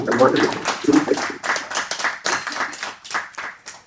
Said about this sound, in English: A round of applause, I think.